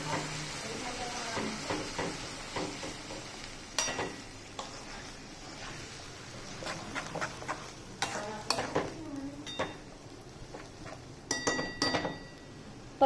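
Tomato puree stirred into a cooking pan on a gas stove, a spoon scraping and clinking against the metal in irregular bursts over a soft sizzle, close and moderately loud, with brief speech.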